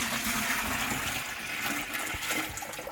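The last of the water is poured into an aquarium tank during a service, producing a continuous gushing, splashing pour that stays close and fairly loud, with no talking.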